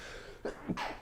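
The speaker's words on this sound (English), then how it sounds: "after your sneezing, bless you" A person sneezes during a live chat discussion, in two quick, close bursts with a breathy intake between them.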